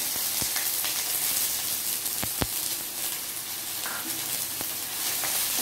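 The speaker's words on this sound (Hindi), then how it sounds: "और इसको भी अच्छी तरह से ब्राउन होने तक भूनूंगी।" Onions fry with curry leaves in a pan, browning for an idli chutney, with a moderate, even sizzle and occasional light taps from stirring.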